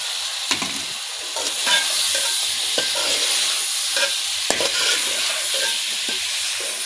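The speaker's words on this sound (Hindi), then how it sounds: "अब मसाले की भी भुनाई हो चुकी है। अब भी मैं ऐड करने लगी आलू।" Potatoes are stirred into spiced masala frying in a pan, giving a steady sizzle with intermittent scraping stir strokes, close and moderately loud with no talk.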